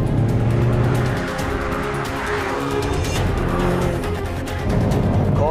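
Hyundai i30 N race car cornering hard on a twisty track at over 200 km/h, its engine droning loud and close with shifting pitch and faint tire squeal, heard alone with no talk.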